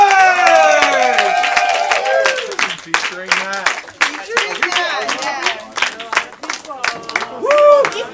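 Crowd at a live stage show cheers and claps with excited shouts and whoops, while a voice briefly speaks over the lively, uneven applause.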